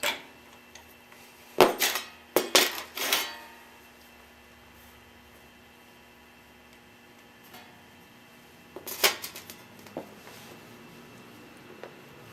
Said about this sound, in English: this is the drain bolt, and I'm going to break this loose and hopefully catch the oil as it drains out